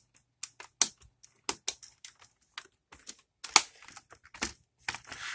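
Keys tapped on a rebuilt membrane computer keyboard during a function test, a sparse, irregular run of soft clicks in close, quiet surroundings, no voices.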